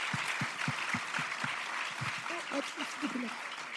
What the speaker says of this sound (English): So I please ask for a big round of applause for these panelists over here.